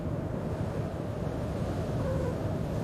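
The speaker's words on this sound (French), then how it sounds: "Quand même pas mal de vent aujourd'hui." Steady wind rushes across the open deck of the rescue ship Aquarius at sea, a loud, constant roar of buffeting air with no voices.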